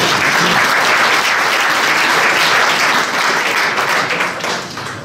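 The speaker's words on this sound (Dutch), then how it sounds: "een applaus voor uzelf" A crowd at an anniversary celebration in Tegelen breaks into loud, sustained applause that holds steady for several seconds before it begins to fade toward the end.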